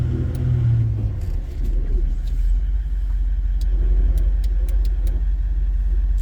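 An off-road vehicle's engine rumbles steadily at idle while held on the brakes on a remote valley river track, a loud, close, continuous low drone with faint clicks on top.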